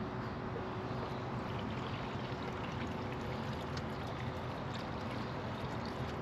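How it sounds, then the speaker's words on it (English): Engine coolant pours steadily from the bleeder port on a car's thermostat housing while the radiator is being filled. The liquid makes a constant, even trickle and splash with a faint tonal hum underneath and no break. "you just fill this with coolant"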